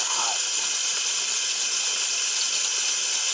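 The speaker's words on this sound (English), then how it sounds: "Now we really want to just let this steam." Stir fry steams and sizzles in a hot pan with added water, a constant broad hiss at steady loudness throughout, close and uninterrupted.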